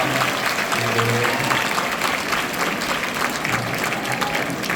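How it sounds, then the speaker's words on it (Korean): Congregation in a church sanctuary applauds after a special hymn sung by pastors' wives at a prayer conference, dense sustained clapping from a large crowd filling the room steadily throughout. "다시 한번 뜨겁게 박수 주시죠"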